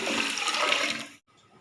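Three glasses of water pour quickly into a pot for lentil and bottle gourd dal with a gushing splash, then cut off abruptly, leaving quiet.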